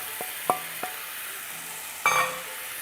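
Coriander, chili powder and turmeric hit hot oil with ginger in a pan while cooking paneer butter masala, giving a soft background sizzle punctuated by a few sharp spoon-against-pan clinks and a brief scraping stir near the end.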